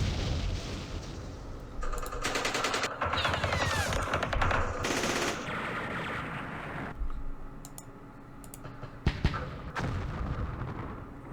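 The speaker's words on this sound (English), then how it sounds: "We have some mortars." Mortar and automatic weapons fire in the Vietnam war game Campaign Series Vietnam, Battle of Hue: rapid rattling bursts and dense clattering volleys, followed by quieter stretches and a few sharp thuds near the end.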